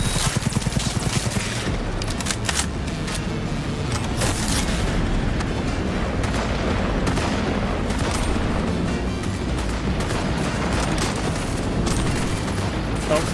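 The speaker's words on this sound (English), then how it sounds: "Okay, but everybody stop shooting me." Enemy gunfire in Cyberpunk 2077, a loud, continuous barrage of overlapping shots and booms that persists without pause.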